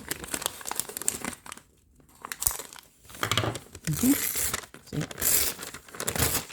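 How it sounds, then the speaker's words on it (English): Adhesive backing peeling halfway off a sheet for a leather Bible cover, crinkling and tearing in bursts with a brief spoken word amid the rustle. "I'm only going to peel it halfway and then I'm going to cut it and then I'm going to smooth it."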